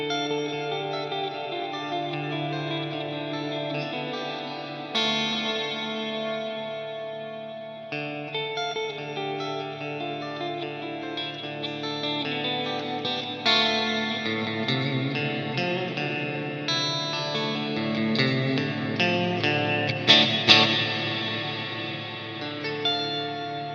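Electric guitar, a PRS, played through a Line 6 Helix LT modeler with effects, reverb and echo, heard alone as sustained chords and lead lines, swelling louder with sharper picked accents near the end.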